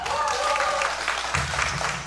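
An outdoor crowd at a beach stage show applauds continuously in a dense, fairly close wash of clapping, with voices and a murmur over it.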